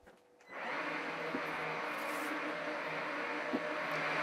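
A Cecotec Freego Wash Twice Spray electric mop starts up after a brief quiet moment and runs across the floor with a steady close motor whir and brush hum, with no talking.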